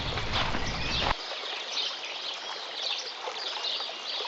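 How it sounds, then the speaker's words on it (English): Fast-moving stream in a video game, bubbling and splashing continuously with a bright, watery rush; a burst of broadband noise opens the sound before it settles into a steady trickle. "A fast-moving stream with a bubbling and splashing sound, challenging players to test their luck by jumping over it."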